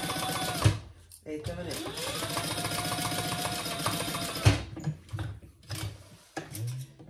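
A sewing machine bastes a lining piece for a mini tote bag, its needle whirring in a fast, even run that stops briefly and restarts, while a person talks over it.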